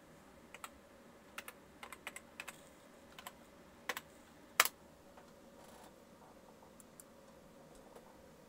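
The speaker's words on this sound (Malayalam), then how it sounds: "ഇപ്പോൾ വീണ്ടും നമ്മുടെ സിസ്റ്റം പാസ്വേഡ് ഒന്ന് അടിച്ചു കൊടുക്കാം." A computer keyboard clicks in short, scattered bursts as a system password is typed, its quiet, close taps spaced irregularly against a soft room hush.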